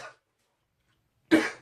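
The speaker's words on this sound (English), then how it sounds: "I've got the cough of Jericho." A man coughs twice, a brief hack followed after a pause by a louder, rougher cough with throat clearing, close and alone.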